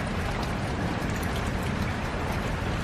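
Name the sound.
heavy rain falling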